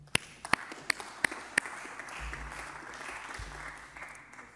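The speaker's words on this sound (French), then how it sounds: "Mesdames, Messieurs, je vous prie vraiment d'applaudir Robert Denis." Applause in the French Senate chamber during a debate session: a few sharp, separate claps at first, then a diffuse wash of hands with low thumps below, steady and moderately distant.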